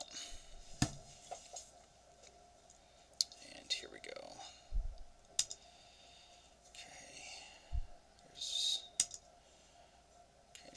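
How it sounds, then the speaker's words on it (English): A computer mouse is left-clicked while working in CAD software: a scattering of sharp, quick clicks of varying loudness over a faint steady hum, with occasional soft murmuring. "Just left clicking a couple times."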